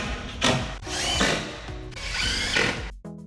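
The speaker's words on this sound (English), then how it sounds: "I pre-drill extra holes in between the existing screws" A power drill pre-drills screw holes into a heavy solid wood pocket door, with three rising whirring bursts as the bit bites in, close and clear, ending in a short stop.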